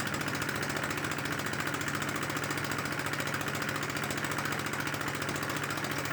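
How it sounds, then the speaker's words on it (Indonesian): A Kubota diesel engine runs steadily after starting, its loud, fast, even knocking clatter continuous and close for the whole stretch with no talk. "Baik sahabat semua, ini mesin sudah hidup ya."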